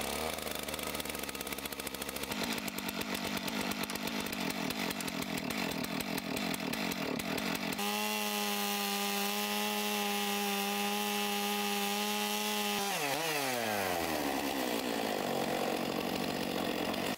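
A Stihl 661 chainsaw mill cuts a log into planks with a loud, steady engine roar close by. The pitch holds under load, then winds down and shifts near the end. No one speaks.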